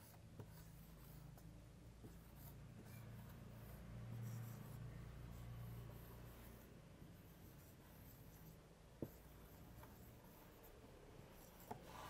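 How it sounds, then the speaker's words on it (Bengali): A word is written out by hand, giving a faint, continuous scratching and rubbing that lasts several seconds with a couple of small taps, quiet and without speech. "সেটা আগে শব্দটা লিখে নিই"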